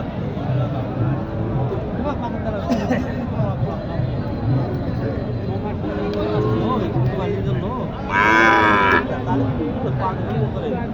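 Jersey cross cattle moo amid a busy crowd at a cattle market, with people chattering throughout and one louder, drawn-out moo standing out near the end.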